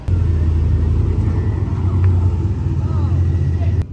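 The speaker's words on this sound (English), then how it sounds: "do a burnout" A Demon car doing a burnout at a car show, its engine rumbling loudly and steadily throughout, with low roaring and some high tire-like squeal in the middle, continuing until an abrupt cut.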